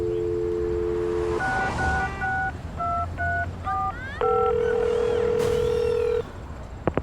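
A telephone in the Leisure Suit Larry Reloaded video game gives a dial tone, then a quick run of touch-tone dialing beeps, then a longer steady tone. All of it is clear and close over a faint hiss of background noise.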